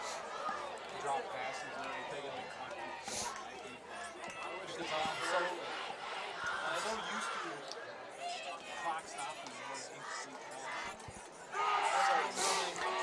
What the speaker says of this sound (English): the cheerleaders get the crowd going with a little victory chant